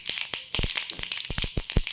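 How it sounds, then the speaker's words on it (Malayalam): Mustard seeds popping in hot coconut oil in a wok, a fast scatter of sharp crackles and pops over a steady frying hiss, close and fairly loud. "കടുക് പൊട്ടിക്കൊണ്ടിരിക്കുന്നു"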